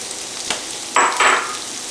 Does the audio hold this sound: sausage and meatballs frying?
yes